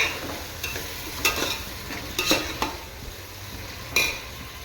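Tomatoes and mint frying in a pan as they are stirred, with a low sizzle beneath several distinct scrapes and clinks of a spoon against the pan, spaced irregularly, close and fairly quiet, no talking.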